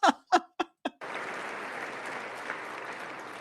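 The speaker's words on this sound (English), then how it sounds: "I wasn't sure if anybody even on this side was going to applaud for that" Four sharp isolated claps at first, then sustained applause breaks out in Congress at the State of the Union, a broad steady crowd clapping at moderate distance.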